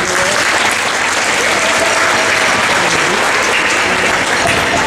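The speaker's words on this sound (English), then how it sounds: "Please give him a round of applause." A band concert audience applauds the assistant director loudly and continuously, with a thick, sustained wash of clapping and a few faint voices mixed in.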